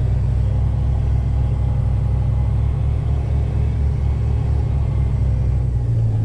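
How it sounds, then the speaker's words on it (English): A CDL training truck backing up before a service brake test gives a low, steady engine rumble close by, idling evenly throughout with a slight shift in tone near the end. "I'm gonna back up for a second so I can get more room to do the service brake test."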